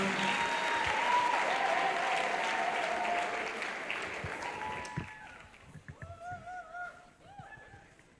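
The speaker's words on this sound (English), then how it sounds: "Can we give him a round of applause?" An audience at a youth week event gives a round of applause, loud steady clapping that fades out after a few seconds, followed by scattered isolated claps and a voice speaking.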